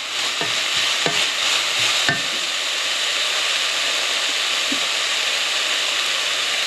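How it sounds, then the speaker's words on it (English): Garlic hits a hot pan on high heat for a shrimp, tofu and leek stir-fry, with a loud, steady sizzle throughout and a few light clinks of a utensil in the first two seconds. "So your temperature is at high, and you add as much garlic you like."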